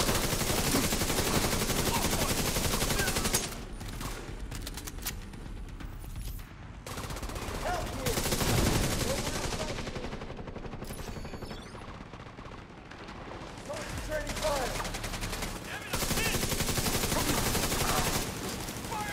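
Dense automatic gunfire and explosions during a firefight in a bunker-assault video game, loud and continuous with brief shifts in intensity, a voice calling out faintly underneath.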